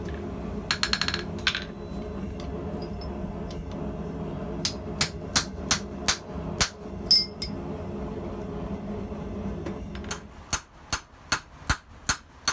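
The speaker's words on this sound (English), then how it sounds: "a small hammer like this, with these light taps, can really make a difference on certain aspects of your project." A small blacksmith hammer strikes steel with light taps: a quick flurry early, then spaced ringing taps, then a faster run of about seven crisp hits at close range.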